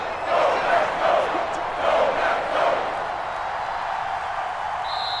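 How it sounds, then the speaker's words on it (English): A stadium crowd roars in an American football video game ahead of a big third down, rising and falling in several swelling waves of cheering before settling into a steady murmur. "the crowd getting into it as we come up on a big 3rd down"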